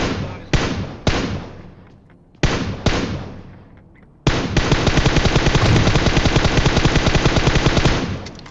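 M416 rifle fire in a game: a few single loud shots with decaying tails, then about four seconds of sustained rapid automatic bursts, close and dense, with no talking.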